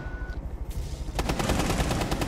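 Gunfire erupts outside in Rainbow Six Siege, a rapid burst of loud, repeated shots following a quieter stretch of rumbling in-game ambience.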